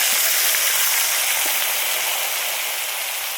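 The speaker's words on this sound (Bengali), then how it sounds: "এই মাছ ভাজা তেলের মধ্যে আলুগুলো সব দিয়ে দেবো।" A dense, steady hiss of potatoes frying in hot oil, close and fairly loud, without talking.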